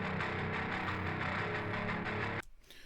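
Raw multitrack of a heavily distorted bass guitar with a gritty, grinding meat-grinder tone from a song, playing loud and dense before cutting off abruptly near the end.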